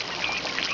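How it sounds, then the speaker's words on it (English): Birds call over a soft outdoor wash, with a few short tonal chirps and squawks rising out of the steady background. "I hear the birds."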